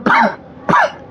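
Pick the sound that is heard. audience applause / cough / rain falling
cough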